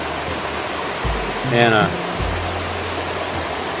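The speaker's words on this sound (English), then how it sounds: "Listening to the sound of that beautiful creek." Continuous broadband rush of a flowing creek near a waterfall fills the background, while a voice talks briefly over it midway.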